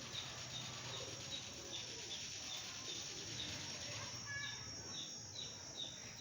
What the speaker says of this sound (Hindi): ये सियालकोटी छत वाला कबूतर है।